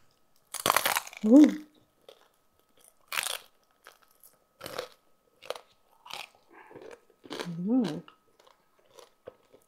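Crisp bites and chewing of lechon kawali, crispy fried Filipino pork, heard as sharp close crunches spaced through the meal, with a few short spoken words and hums of enjoyment between them.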